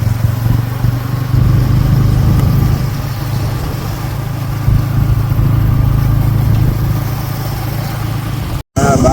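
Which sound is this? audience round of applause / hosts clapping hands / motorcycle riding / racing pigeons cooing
motorcycle riding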